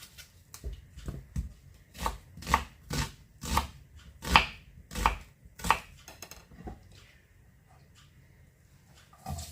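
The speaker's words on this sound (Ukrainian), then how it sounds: "і нарізаємо цибульку на засмажку" A knife chops onion steadily on a board, about a dozen crisp strikes in an even rhythm, close and clear with brief pauses.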